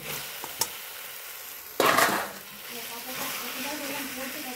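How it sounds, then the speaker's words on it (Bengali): Chicken pieces drop into a pan of spice paste that has grown thick and is sticking, giving a sudden loud sizzle that fades into a steady fry after a few small clinks. A voice speaks over the cooking. "এবার চিকেনটা দিয়ে দিচ্ছি।"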